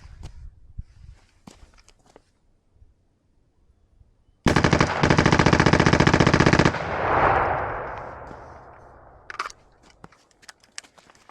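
An AR-style rifle with an FRT trigger dumps a full 5.56 magazine in one loud, close, rapid string of shots lasting about two seconds, followed by a ringing echo off the range and a few scattered footsteps and handling clicks.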